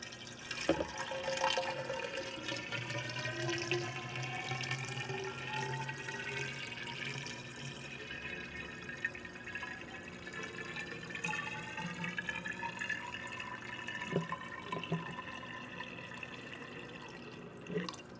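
Water pours steadily into a half-gallon pitcher, a continuous splashing rush that rises subtly in pitch as it fills, with a few faint clinks.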